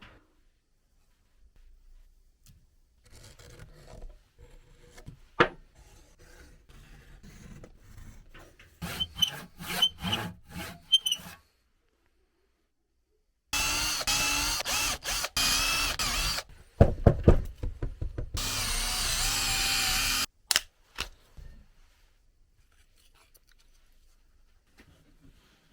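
Woodworking on small wooden light bulb mounts made from two-board sandwiches: scattered close taps and knocks, then bursts of loud, coarse rasping or sanding on wood broken by short pauses, with faint handling noises after.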